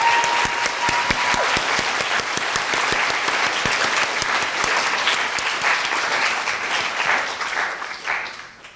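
An audience at a campus presentation applauds the cast, sharp distinct claps merging into a full, steady round that lasts several seconds before fading out at the end.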